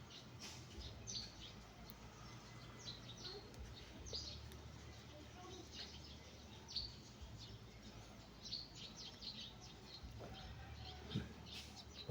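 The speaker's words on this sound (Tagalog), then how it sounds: "Ganda ng huni ng mga ibon." Small birds chirp and tweet in scattered short calls at moderate distance over a steady low outdoor hum, with faint background voices.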